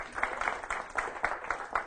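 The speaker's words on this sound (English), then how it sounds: "Another round of applause for Louie." Crowd applause at a citizen meeting, a steady roll of many hands clapping with rhythmic peaks, moderately close and continuous throughout.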